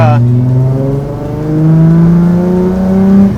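A Datsun 280Z engine held around 4,000 RPM, a close, loud, steady rev whose pitch climbs slowly, while someone talks over it.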